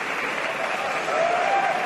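A wrestling crowd applauds in a steady, dense wash of clapping filling an indoor arena, swelling slightly louder toward the end, with a commentator's voice faintly underneath.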